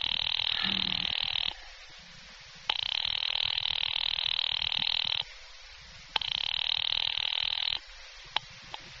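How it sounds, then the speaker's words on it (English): Telephone ringing on the line in an old radio drama, three long buzzy rings separated by short pauses, clear and fairly loud with nothing else over it. "Ringing Murray Hill 70093."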